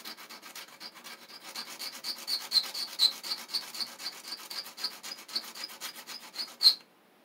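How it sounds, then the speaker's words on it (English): A part is sanded by hand with quick, regular back-and-forth rubbing strokes, close and fairly soft, with a few sharper scrapes near the end before it stops. "Oh, that sanded really nice. And I'll do the same on the other side."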